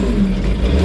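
An old Ford tractor engine runs steadily in second gear, a close, constant low rumble with no talk over it.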